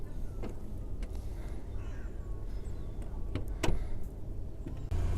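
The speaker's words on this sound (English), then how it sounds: "Just want to show you that the electric tailgate's working exactly as it should." The electric tailgate of a Lexus RX 450h 3.5 SE-L hatchback opens with a low motor hum, a few sharp clicks and a clunk near the end, heard close up.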